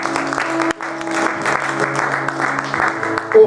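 A church congregation breaks into lively applause and clapping, with scattered voices rising through it for a few seconds.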